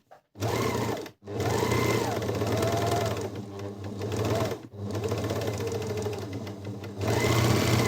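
A Merrylock-2020 overlock machine runs close and steady in several long bursts, with brief pauses between, giving a continuous whirring, rhythmic mechanical stitching sound.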